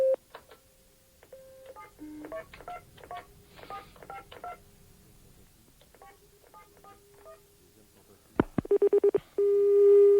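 Telephone DTMF dialing tones beep in a quick series of short keypresses while calling back a number, followed by a ringing tone and a steady dial tone at the end, all close and clear.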